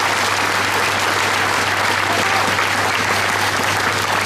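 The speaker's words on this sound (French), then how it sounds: "Je pense qu'on peut tous les applaudir." A crowd at a 14 July ceremony applauds emergency workers and firefighters, with dense, steady clapping that stays loud throughout.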